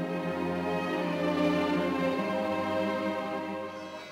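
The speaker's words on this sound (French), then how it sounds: "la banlieue d'Erevan se réveilla au son des cloches d'Etchmiadzin" Church bells of Etchmiadzin, seat of the Armenian church near Yerevan, sounding as a dense, sustained ringing with many layered tones that stays steady throughout and fades slightly at the end.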